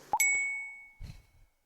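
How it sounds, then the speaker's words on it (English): A phone message alert rings out as a bright, sharp two-tone ding that rings and decays, followed by a soft low thump. "As the alert chimes from my phone"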